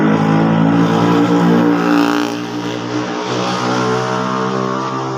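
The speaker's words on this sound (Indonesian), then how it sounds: "ada motor lewat guys" A motorcycle passes close by on a road, its loud engine droning steadily then easing slightly as it moves on, with no talking.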